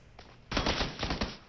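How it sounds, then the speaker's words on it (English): A quick burst of rapid gunfire in the video game PUBG, several sharp shots in close succession after a faint lead-in shot, moderately loud. "Oh, couple of shots."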